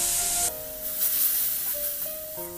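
Water hitting a hot pan of sizzling spice mix with pepper and Kashmiri chili powder, a sudden loud hiss that stays as a steady steamy sizzle, close up, with faint background tones.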